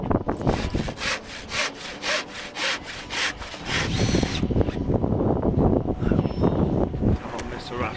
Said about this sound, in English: So I'm just going to cut it in half and then just stick them along there